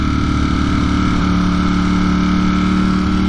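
A 2020 Ducati Streetfighter V4 naked motorcycle of roughly 200 bhp holds a steady, loud, close V4 exhaust drone with a raspy engine hum throughout.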